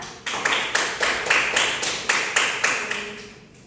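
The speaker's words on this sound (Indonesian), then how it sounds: "Beri aplaus pada Aura." A small classroom group claps for a student during a geography lesson, about nine evenly spaced, crisp claps in a steady rhythm, close and moderately loud, with no talking.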